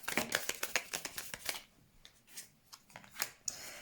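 Oracle cards are shuffled and drawn for a reading, making a quick run of soft flicking riffles followed by a few scattered slaps and slides of cards, close and quiet with no talking.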